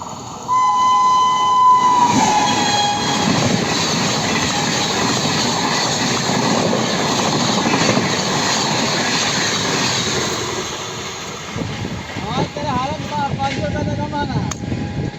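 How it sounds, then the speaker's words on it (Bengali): A Ranchi Shatabdi superfast train races past close to the track, a loud continuous roar of wheels and carriages, with a horn blast at the start and more horn notes as the rumble fades near the end. "এখন রাঁচি শতাব্দীর টাইম, ওই জন্যই দাঁড়িয়ে আছি, আওয়াজ পেলাম। এটাও একটা সুপার ফাস্ট ট্রেন,"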